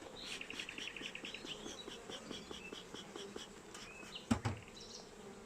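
Honeybees buzzing at an opened hive during an inspection, a soft, steady drone of many wings with individual bees passing close, plus faint birdsong and a sharp knock near the end.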